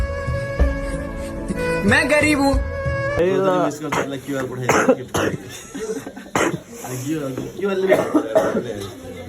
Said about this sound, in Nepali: खोकीले मार्यो